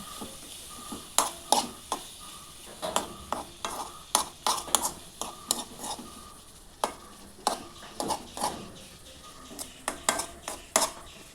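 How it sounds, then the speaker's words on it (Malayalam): Tomato chutney with chilli powder stirred in a pan, a spoon scraping and clacking against the metal in repeated irregular strokes over a faint steady sizzle, close and clear with no talk. "എന്നിട്ട് നന്നായിട്ടൊന്ന് ഇളക്കി മിക്സ് ചെയ്യുക എന്നിട്ട് അടച്ച് വെച്ച് ഒന്ന് വേവിച്ചെടുക്കണം"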